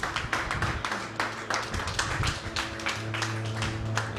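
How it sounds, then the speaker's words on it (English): An audience at a blockchain conference stage claps to welcome a speaker, a brisk, fairly loud round of applause mixed with low hum and a few taps, with no clear talk. "So give a round of applause for Owen."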